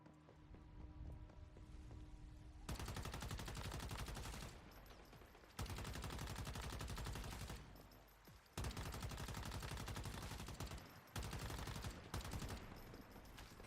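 Rifle fire in the survival shooter game Once Human, loud dense bursts of rapid shots in several long volleys separated by brief pauses, with a steady game soundscape underneath.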